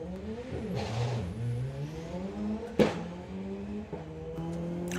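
Drag racing car engine at a doorslammers event revving hard through a pass, a loud sustained roar with rising pitch, a brief dip near the start and a sharp burst midway before pulling on steadily.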